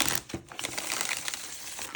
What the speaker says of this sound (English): I'm going to do one more shuffle because it feels right.